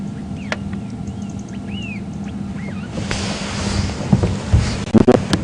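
A drongo at Djuma Game Reserve chirping and mimicking other birds, several distinct whistled and warbling calls at moderate distance over an idling safari vehicle rumble, which grows into rattling and clunking noise.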